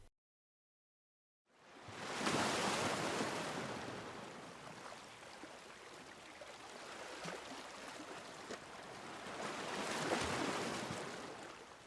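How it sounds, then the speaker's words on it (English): Ocean waves crash against jagged rocks on the shore of a tiny island, rising out of silence into a broad surging roar that ebbs and swells again, steady and fairly near. "The waves crashed against the jagged rocks littering the shores of the tiny island"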